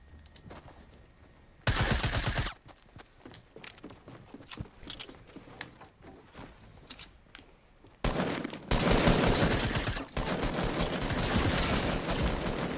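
Submachine gun fire in a video game: a short, loud rapid burst, then after scattered quieter game sounds a longer sustained volley of fast automatic shots lasting several seconds.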